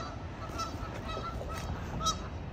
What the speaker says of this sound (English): I'm sure every runner's worst nightmare, those geese.